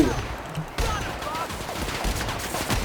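A sniper rifle shot fired in The Outer Worlds video game, a sudden loud broadband crack at about 0.8 seconds. Dense game ambience and action noise continue steadily around it.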